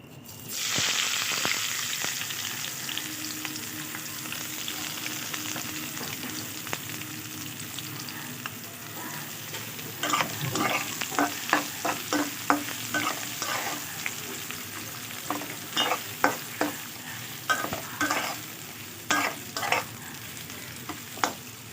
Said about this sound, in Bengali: পেঁয়াজটা লাল লাল করে ভাজা হয়ে গেছে